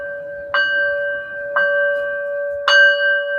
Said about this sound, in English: Let's ring her bell.